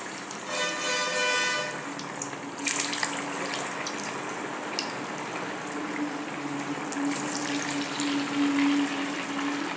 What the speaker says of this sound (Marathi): तेल गरम झालं आहे. त्याच्यात आता वडे सोडूया.